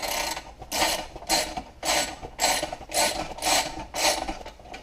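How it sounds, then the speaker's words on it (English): A ratchet wrench tightens the four bolts on a Briggs and Stratton engine starter cover, giving loud, close, rhythmic bursts of clicking, about seven strokes, each separated by a short pause, with no talk. "I tighten these 4 bolts up on the starter cover."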